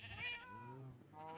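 A cat meows with a rising, then falling tone, the call stretched over about a second. It sounds close and clear and is probably a video game kitty kept as a pet.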